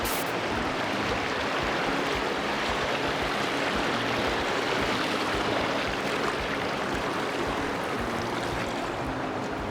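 A river rushes and churns steadily at close range throughout, a dense, even wash of flowing water at a river crossing on a hike at Horseshoe Bend, with no talking.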